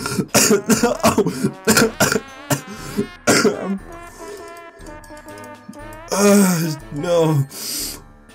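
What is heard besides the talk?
bad coughing while playing Trombone Champ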